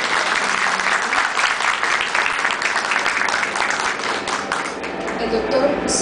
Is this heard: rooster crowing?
no